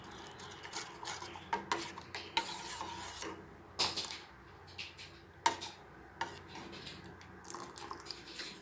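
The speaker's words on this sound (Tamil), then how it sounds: "சேர்த்துட்டு நல்லா கிளறிக்கணும்." A utensil scrapes and taps around a pan of milk in steady stirring strokes, with soft clinks against the metal and a faint sizzle beneath.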